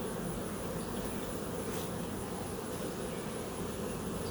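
Honeybees buzzing around an open hive during a pre-harvest honey super check, a steady, dense hum of many bees close to the microphone with no talk.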